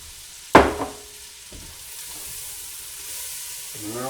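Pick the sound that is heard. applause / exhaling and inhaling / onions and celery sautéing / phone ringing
onions and celery sautéing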